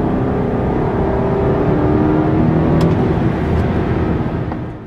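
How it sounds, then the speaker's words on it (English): A BMW 550i V8 sedan engine rumbles deep and throaty, pulling hard in first gear in sport mode, loud and close, before easing off at the end. "it makes such a distinct V8 sound"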